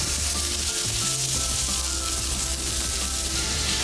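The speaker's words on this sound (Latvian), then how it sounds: "mēs varētu šīs te mazās ķemītes apcept" Small scallops frying in a pan give a steady, close sizzle with some light scraping and stirring, dense and unbroken throughout, with no voices.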